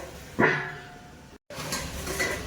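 A lid clanks down onto a pan of chicken browning in its own released oil, one sharp metallic strike followed by a muffled, steady low sizzle from the covered pan.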